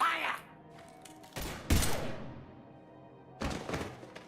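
Gunfire in the video game Mass Effect 3: three heavy broadband shot bursts near 1.4, 1.7 and 3.4 seconds, each fading into a rumbling decay over a low game ambience, with no talk.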